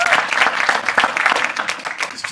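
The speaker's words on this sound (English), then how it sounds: "round of applause to our speakers" Dense, steady applause from an audience at a police accountability and justice forum, clapping for the moderator with busy, overlapping claps throughout and a few voices mixed in.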